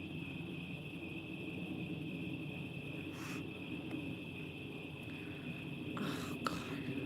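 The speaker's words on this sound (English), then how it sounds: "Can you hear the crickets, or are they being drowned out by the plane flying over?" Crickets chirp at night in a steady, faint, high-pitched trill, continuous and distant beneath a low background rumble with a few soft rustles.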